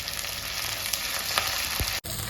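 Green chilli and ginger-garlic paste frying in oil with fenugreek for a Kerala fish curry, a continuous close sizzle with a few light stirring scrapes, briefly cut off near the end before resuming.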